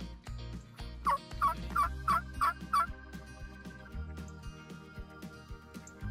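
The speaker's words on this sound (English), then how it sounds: "I could hear the gobblers, and they were getting closer" Wild turkey gobblers sound off in a quick run of about six rattling gobbles, moderately distant, over a steady low background hum.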